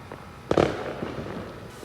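Fireworks at a Fourth of July celebration in the USA: one sharp, loud bang with a crackling burst, then scattered fainter pops and rumbles from other launches farther off.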